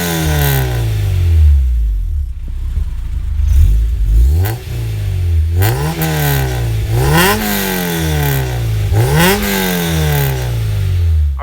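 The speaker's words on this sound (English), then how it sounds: "Let's go ahead and start it up and let you hear that exhaust." A car engine cranks and fires up, then its exhaust is revved hard several times in rising and falling sweeps, loud and close with no talking.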